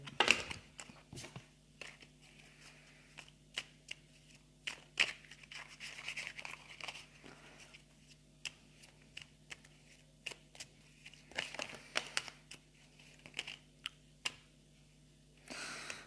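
Tarot cards are shuffled quietly by hand in short, irregular bursts of soft riffling and clicking, close to the microphone over a faint background hum, with no talking.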